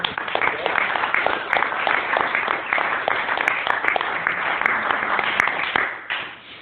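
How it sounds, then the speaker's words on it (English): Sustained audience applause at an Alcoholics Anonymous young people's group meeting, dense and steady clapping from a sizable crowd that tapers off toward the end. "Give him a round of applause."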